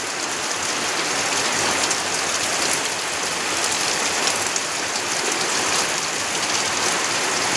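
Steady rain falls on open farm fields, a dense, even hiss of drops that stays loud and unbroken throughout with no voices.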